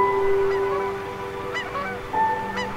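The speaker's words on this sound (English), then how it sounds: "After our meal, I decided to go out and take a few pictures and caught these geese." Geese honk outdoors at a national forest campsite, several nasal calls in short bursts over a steady background drone, moderately close with no talking.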